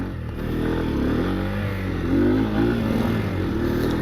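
A Bajaj Pulsar N125 motorcycle engine starts and settles into a steady, close idle with a low throbbing rumble throughout, loud and without speech.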